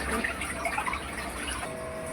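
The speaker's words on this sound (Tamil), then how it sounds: "தண்ணி இப்போ தான் திறந்துக்கிட்டேன்" Water running steadily from a household tap into a vessel, a soft continuous splashing stream heard close by and fairly quiet, with a faint steady hum entering near the end.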